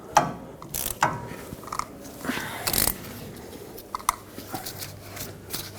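A hand ratchet tightens the rear hub nut on a 2011-2016 Ford F-350 to seat the wheel bearings, giving close bursts of sharp clicking with pauses between strokes and some metallic clanks, no speech.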